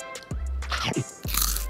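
Someone bites into a chilled brownie crepe roll, giving a few close, soft crunching and chewing sounds over a low background hum, with no talking.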